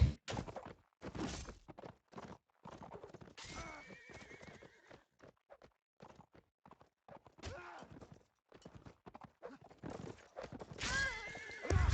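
A courser horse in a video game battle neighs and whinnies repeatedly amid clip-clopping hooves and scattered combat thuds, loud and close.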